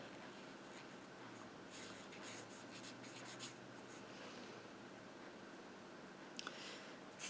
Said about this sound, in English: And we're going to color all this.